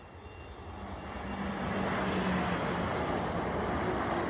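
A South Western Railway train passes between Pokesdown and Christchurch, a steady broadband rumble that swells after the first second and holds loud and close through the end, with no talk over it.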